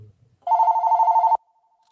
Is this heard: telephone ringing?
yes